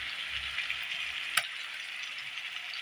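Turmeric, chilli paste and tomato fry in a pan for a thin puti fish curry, giving a steady sizzle throughout with one brief sharp clink near the middle; no voices.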